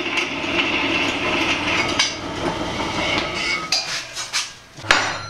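Metal being struck with a hammer to shape a smooth dome for a rose arch, in a busy workshop; a continuous clattering, ringing texture of close metallic blows with sharper hits near the end and no talk.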